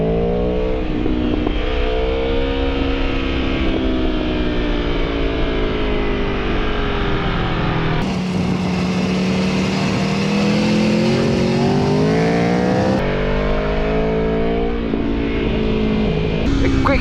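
Aprilia Tuono V4 1100 Factory naked sport motorcycle engine pulling hard, a loud, steady close-up roar with rising pitch sweeps as it accelerates through gears, wind rushing throughout.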